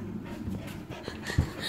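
A dog pants in quick, breathy rhythm close by, with a faint whimper and a small thump, heard alone without speech.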